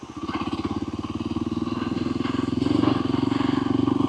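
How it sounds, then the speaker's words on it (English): A Voge 300 Rally motorcycle rolls slowly along an off-road track in Spain, its engine a steady, close, low rhythmic thump that swells slightly midway as it chugs along at low revs. "the low down torque on this little 300 rally for poodling like this gives you loads of confidence"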